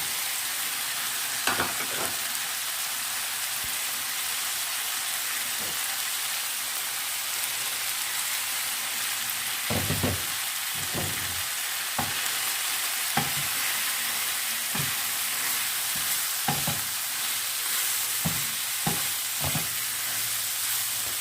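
White onions fry in a pan for a KPK-style chaunga vegetable dish, giving a steady hiss of sizzling oil broken by repeated sharp scrapes and taps of a spoon stirring, close by and with no talk.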